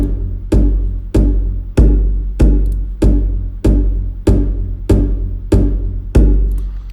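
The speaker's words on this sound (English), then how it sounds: "I found this percussion patch from the Albion Solstice library, and this is the Mard kits" Eleven deep, beefy stomping kick hits from the Albion Solstice Mard kits percussion patch pound in a steady, even rhythm, each boom loud and close with a short decaying tail, no voices present.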